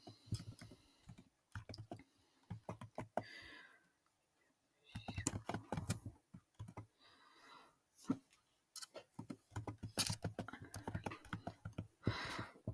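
Someone types on a computer keyboard while filling in an online form. Quiet, close keystrokes come in uneven bursts with short pauses between them.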